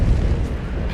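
A giant firing projectiles at the player in Dark Souls 3, heard as a continuous loud low rumbling boom filling the whole second, with no talk.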